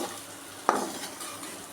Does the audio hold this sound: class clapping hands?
no